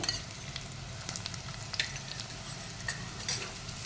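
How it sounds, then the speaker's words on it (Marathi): Ginger, garlic, coriander and mint masala frying in hot oil, a steady low sizzle with soft stirring scrapes and faint utensil clinks close by, no talking. "हा मसाला पण आपण मस्त तेलात भाजून घेऊ थोडा"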